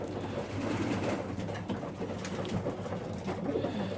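Racing pigeons of rare colours coo inside a loft, a steady, soft, overlapping murmur of calls that runs throughout with no talking.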